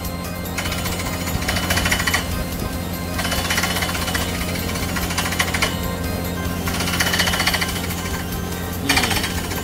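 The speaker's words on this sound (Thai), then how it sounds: "ตอกลงไปครับตอกลงไป แต่ว่าเจาะลึกไม่ได้ครับ" Water well drilling rig hammering and rotating into the ground, a loud continuous rapid pounding with rhythmic surges every couple of seconds, close by and without talk.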